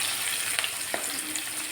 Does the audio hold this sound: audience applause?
no